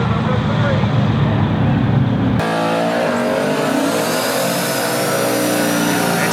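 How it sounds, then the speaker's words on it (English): Chevy Camaro and Ford Falcon street hot rods roar down a drag strip, a loud, continuous high-revving engine blare that shifts pitch abruptly as the cars charge toward the top end, with an announcer talking over it. "As the Camaro moving, the Falcon chasing, heading out to the top end."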